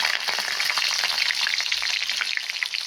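Green chilies fry in hot oil with crackling mustard seeds for a leftover-idli dish, a loud, dense, continuous sizzle with fine popping throughout, close up and with no voices.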